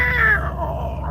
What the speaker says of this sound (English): Oh, black cat, black cat.